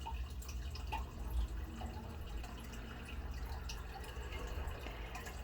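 Oil pours over a spoon onto water in a container, giving a quiet trickling and faint dripping against a steady low background hum, close and soft with no talking.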